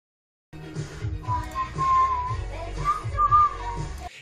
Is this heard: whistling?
yes